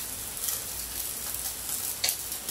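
Draniki, Belarusian grated-potato pancakes, fry in an oiled pan with a steady bright sizzle and a few small pops and spits, close and even throughout.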